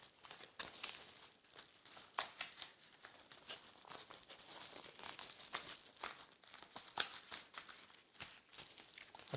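Crinkly reflectix insulation being trimmed to fit a cozy for an ultralight camping cook kit, giving close, quiet bursts of crackling and crinkling with a few sharp snips, and no talk.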